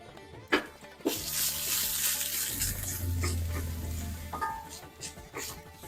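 Grated coconut roasts in a pan on a South Indian stove. A couple of sharp spoon knocks give way to a steady, close sizzle and scraping as it is stirred.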